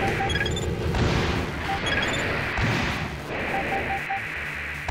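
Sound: missiles fired and exploding in the video game Armored Core 1

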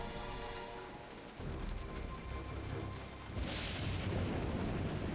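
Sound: rain in a storm, from Jurassic Park: The Game

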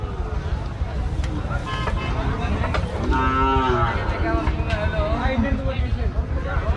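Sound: calves mooing at a cattle market

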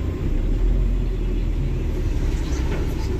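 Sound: truck pulling away in first gear

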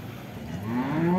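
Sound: Simmental cattle mooing at Boyolali cattle market

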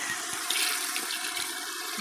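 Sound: water being poured into a cooking pot

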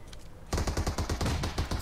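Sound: gunfire in a video game (PUBG-style battle royale)

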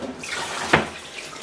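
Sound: water running from tap

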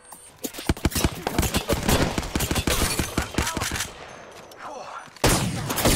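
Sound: gunfire, from video game Apex Legends

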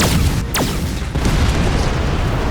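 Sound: anime magic blast smashing an exam hall

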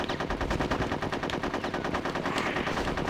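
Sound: gunfire shooting enemies in video game Conker's Bad Fur Day

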